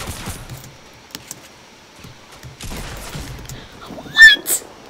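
Gunfire in a Fortnite match, a short burst of shots in the middle followed by louder, sharper reports near the end against quiet game ambience.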